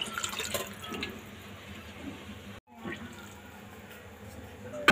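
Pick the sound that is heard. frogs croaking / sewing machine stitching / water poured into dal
water poured into dal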